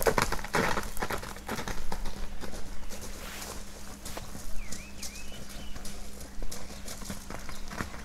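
Purebred Kyrgyz horses galloping, their rapid hoofbeats thudding in an uneven rhythm at moderate distance, with a low hum underneath and a brief bird chirp.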